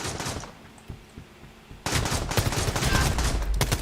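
A grenade explosion in the video game Quantum League: after softer scattered gameplay noise, a sudden loud blast erupts and rolls into a sustained crackling, rattling burst.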